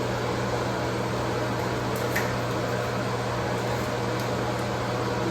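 Steady whirring electric fan running close by, a continuous broadband hum with a low drone, unchanging throughout with no talk.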